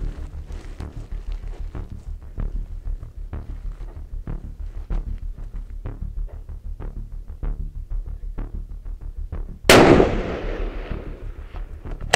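A 16-inch .308 Winchester rifle fires one loud, sharp shot of 169-grain Sierra MatchKing, cutting through a steady rhythmic thumping background, and the blast rings and decays over the next couple of seconds.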